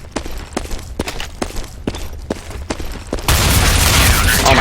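Shotgun fire in the video game Counter-Strike during a competitive match: about seven sharp, evenly spaced blasts, followed by a dense wash of louder, steady noise.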